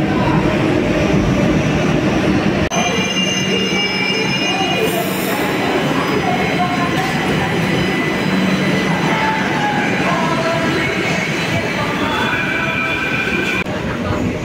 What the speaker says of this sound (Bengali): ফাইনালি ঢুকে পড়লো দমদম মেট্রো স্টেশনে আমাদের ট্রেন